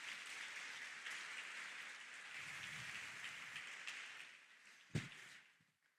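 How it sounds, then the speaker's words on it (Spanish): A church congregation claps for the Lord during a Spanish-language sermon, a faint, distant, rain-like patter of many hands that carries on evenly, with one sharp thump near the end before it tapers off. "Dale un fuerte aplauso al Señor si lo crees."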